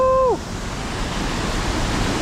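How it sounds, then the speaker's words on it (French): The Radule waterfall in the Corsican mountains gives a steady, full rush of falling water that continues throughout, briefly overlaid at the start by a short tone that glides downward. "Cascade de Radule."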